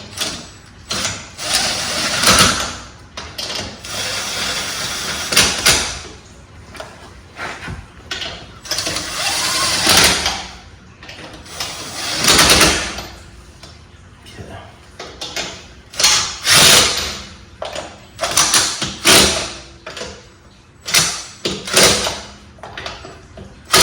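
Lug nuts run onto a 2017-2020 Hyundai Elantra wheel with a ratchet, giving repeated close metallic clicking and rattling bursts in uneven runs while someone talks.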